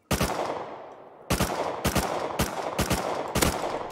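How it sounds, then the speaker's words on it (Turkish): Gunfire in the survival video game Rust: a burst of sharp, loud shots followed by a rapid run of five more close, punchy reports, each with a short ringing decay. "Aa vurdum, adamı vurdum."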